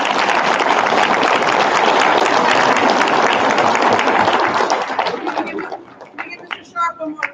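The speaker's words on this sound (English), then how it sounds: "Give a round of applause." A school audience applauds after an eighth-grade choir concert, steady dense clapping that fills the room for about five seconds, then thins into scattered claps and a few voices as it dies away.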